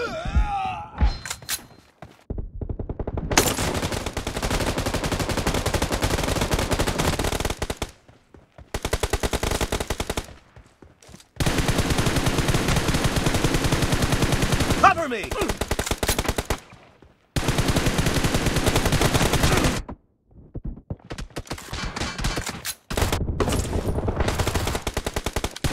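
Rapid automatic gunfire in a shooting video game, loud bursts of machine-gun fire broken by short pauses, with shouted callouts mixed in.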